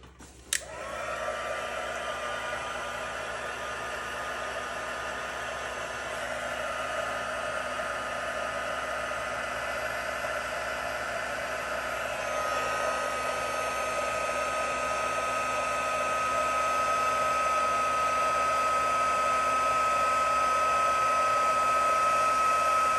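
A heat tool blows hot air for heat embossing, a steady close whooshing hum that runs unbroken for over twenty seconds and grows slightly louder toward the end.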